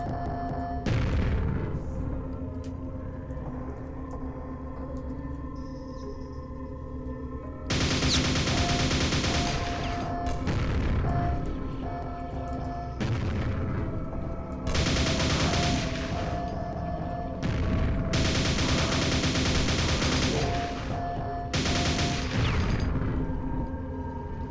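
Bursts of rapid gunfire in remastered Quake roll out in several long volleys, loud and close, separated by short lulls over a steady droning background.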